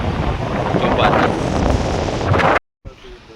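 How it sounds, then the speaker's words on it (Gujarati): Steady wind and rain roar loudly and continuously at a waterside fishing spot, cutting out abruptly near the end before a quieter tail of background noise. "પવન ને વરસાદ ફૂલ"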